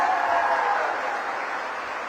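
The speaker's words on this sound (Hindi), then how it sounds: "एक बार इन दोनों बच्चों को खड़े होकर तालियां बजाकर आप लोग अपनी शुभकामनाएं दीजिए।" Audience applause at a public event in Gautam Buddh Nagar, a steady dense wash of clapping from a large crowd that holds level and tapers slightly over two seconds.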